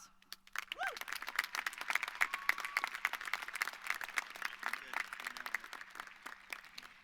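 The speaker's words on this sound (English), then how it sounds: "we get to celebrate, and that deserves a round of applause." An audience at a high school graduation ceremony applauds, a moderate crowd clapping with many distinct claps heard from a distance, alongside a few cheers and whoops.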